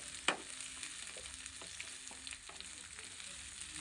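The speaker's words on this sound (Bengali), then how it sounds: "পেঁয়াজ আর যে কাঁচা লঙ্কাগুলো চিরে রেখেছিলাম ওগুলোকে দিয়ে দিলাম। দিয়ে এটাকে কিছুক্ষণ ভেজে নেব।" Onions and green chillies fry in a pan with a steady hiss, opening with a sharp clack and followed by light scraping taps from stirring.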